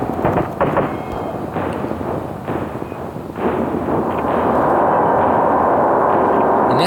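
A few heavy, booming 12-gauge shotgun shots in quick succession in the video game Resident Evil 4, aimed at a giant, followed by a loud, sustained rumbling roar that fills the rest of the clip.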